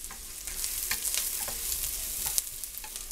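Minced onion frying in a pot for broccoli cheese soup, a close, crackling sizzle with irregular bright pops and stirring scrapes throughout.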